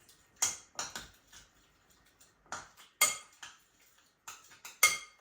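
Marinade of horseradish and a few spoons of oil being mixed in a bowl for baked white sausage, heard as sparse clinking and tapping strokes of a utensil against the bowl, close but quiet, in separated clusters.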